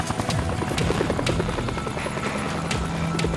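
A rescue helicopter hovers close overhead during a winch rescue, its rotor thudding in a rapid steady rhythm with a loud continuous engine whine throughout.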